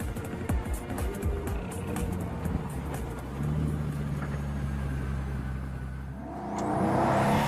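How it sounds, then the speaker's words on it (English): A Pagani Huayra supercar accelerates down a track's main straight with its aerodynamic flaps kept down, the engine building from a whirring drone into a rising roar that grows louder at the end. "As the Huayra rockets off down the main straight, the flaps are kept down."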